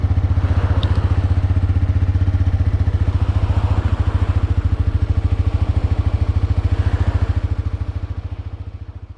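A Suzuki GSX-S125 motorcycle rides along the coast of Shodoshima with a steady, rapid single-cylinder engine pulse close to the microphone, joined by wind rush, easing off slightly toward the end.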